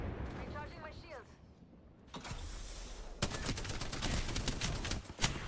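Gunfire rings out in the battle royale game Apex Legends, bursts of rapid automatic shots growing denser in the second half, mixed with mechanical clanks and game effects, while a player talks over it.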